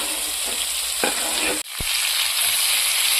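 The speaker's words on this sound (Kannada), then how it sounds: "ಬೆಳ್ಳುಳ್ಳಿಯನ್ನ ಚೆನ್ನಾಗಿ ಫ್ರೈ ಮಾಡಿದ ನಂತರ ನಾವು ಈ ಮಿಕ್ಸ್ ಮಾಡಿದಂತ ಈರುಳ್ಳಿ ಕ್ಯಾಪ್ಸಿಕಮ್ ಅನ್ನ ಇದಕ್ಕೆ ಸೇರಿಸ್ಕೊಳ್ಳೋಣ" Onion and capsicum tossed into hot oil with fried garlic for a dahi capsicum side dish: loud, continuous sizzling with spatula stirring strokes and one brief drop-out midway, and no voices.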